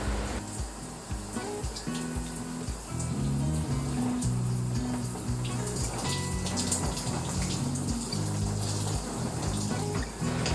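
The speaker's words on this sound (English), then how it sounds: "once I feel it's good, I wash it all off" Shower water runs steadily as exfoliant is rinsed off an arm, a continuous close splashing wash with faint background music and no speech.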